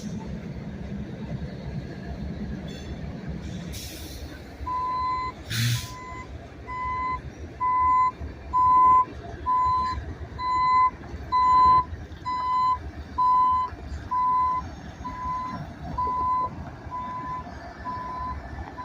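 A backing truck sounds a steady series of about a dozen evenly spaced reversing beeps at a rail yard, ringing clearly over a low rumble of traffic and idling engines, with a sharp clank just before the beeping starts.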